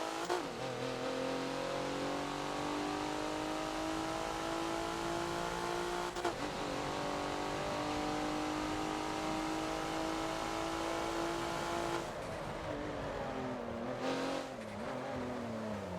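A Porsche Macan races around the Homestead super mini track in Forza, its engine holding a loud, steady high-revving drone with tyre noise, a brief shift or lift near the middle and another change in pitch toward the end.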